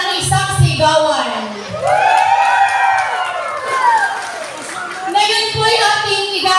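A crowd cheers, whoops and shouts for the queen on a stage at a pageant, voices rising and falling in a steady, lively roar across the whole stretch.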